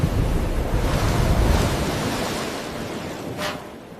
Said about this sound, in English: shielding him as best she could from the crashing waves